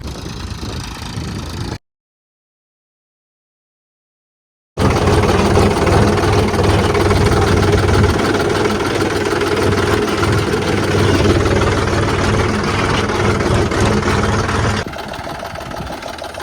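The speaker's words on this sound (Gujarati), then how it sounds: "આજે અમે ટ્રેક્ટર લઈને આવેલા છે બીજાના ખેતરમાં રોકડી કરવા માટે" A tractor engine idles in a stony field before plowing, a loud, steady, low mechanical drone that cuts out briefly near the start and then runs on unbroken.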